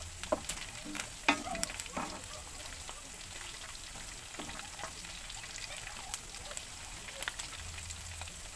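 Garlic frying in a pan for Bicolano adobo sa asin, a soft continuous sizzle with crisp popping crackles and occasional utensil taps, moderately quiet and close.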